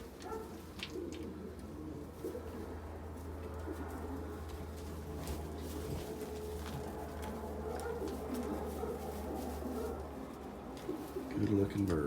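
Racing pigeons coo steadily in a well-ventilated second-floor loft at a pigeon station, a low continuous murmur of many birds with faint voices mixed in.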